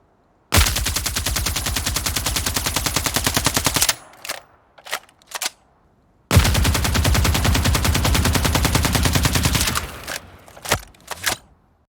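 Automatic weapon fire from a remastered game sound effect, played twice: each a sustained rapid burst of several seconds, loud and close, ending in a few scattered single shots and tails.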